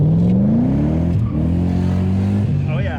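A BMW car accelerates on a short test ride, its engine note rising steadily and loudly close by, with a brief dip around a shift before climbing again.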